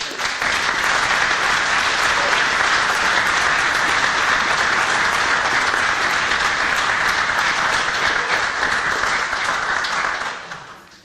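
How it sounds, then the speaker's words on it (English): A community celebration honoring hidden heroes erupts in a long, steady round of audience applause, thick and even throughout before tapering off in the final second. "a big round of applause"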